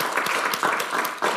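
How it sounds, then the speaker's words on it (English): An audience at a symposium applauds two presenters, a steady wash of many hands clapping at close-to-medium distance with no talking over it. "Can we please applaud both Michael and Damon's presentation?"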